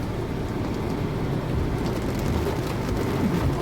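Heavy rain drums steadily on a roof, a dense, continuous broadband wash with no talk over it.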